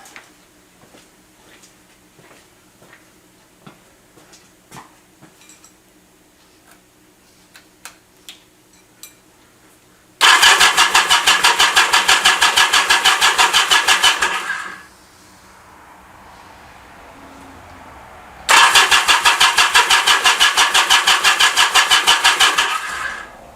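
A Yamaha Commando engine ticks quietly at first, then cranks into two loud, close bursts of rapid mechanical chugging, with a softer whirring lull between them and no voices.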